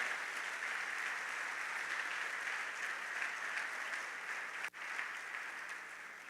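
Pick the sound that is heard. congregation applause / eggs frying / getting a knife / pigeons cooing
congregation applause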